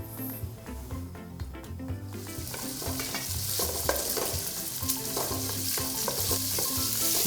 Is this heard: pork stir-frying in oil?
yes